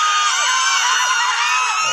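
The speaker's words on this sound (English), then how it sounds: "And there are people screaming." Several people scream and yell together during a horror game, a loud, sustained mass of high-pitched shrieks with rising wails throughout.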